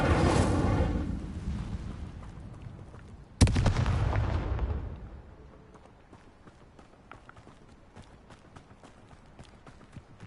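An Incendio fire spell is cast in Hogwarts Legacy, opening with a roaring burst and then a sudden sharp blast followed by a loud whooshing roar that fades into quieter crackling and footsteps.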